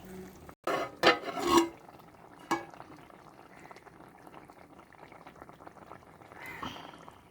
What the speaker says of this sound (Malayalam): അപ്പോൾ നല്ലതായിട്ട് തിളച്ച് വന്നിട്ടുണ്ട്.